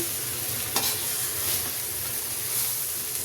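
Noodles with vegetables stirred and tossed in a hot pan, loud continuous sizzling and hissing steam close up, with occasional spatula scrapes breaking through.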